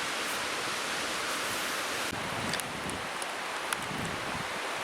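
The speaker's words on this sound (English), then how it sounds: "It's a good wind for drying, not so much for solo canoeing when you're already tired at the end of the day." Steady wind rushes over an open lake at the end of a solo canoe day, a broad continuous roar with faint rustling and a few small knocks, loud and close with no talking.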